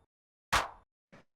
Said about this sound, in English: If you just take like a 909 clap and pitch it down like this